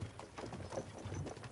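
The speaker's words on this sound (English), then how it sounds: "don't you think maybe we could make the horses go a little faster?" Horse hooves clip-clop steadily in the video game Kingdom Come: Deliverance II, even walking-pace knocks over a continuous outdoor rumble.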